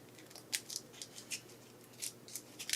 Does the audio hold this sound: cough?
no